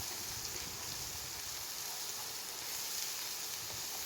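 Garlic paste fries in a pan with a steady, soft sizzle, a faint and even crackling hiss that carries on without a break and with no voices.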